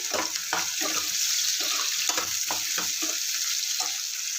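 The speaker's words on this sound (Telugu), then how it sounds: "సన్నగా కట్ చేసిన ఉల్లిపాయ ముక్కలు వేసుకుంటున్నాను" Thinly sliced onions hitting hot oil in a pan for a Telangana-style village chicken curry, a loud continuous hiss and sizzle with intermittent scraping stir strokes, close and without talk.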